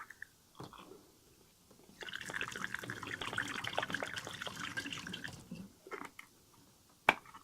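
Apple juice pours into a cider fermenter in a trickling, splashing stream lasting a few seconds, with faint drips and a sharp knock or clunk near the end.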